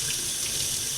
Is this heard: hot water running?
yes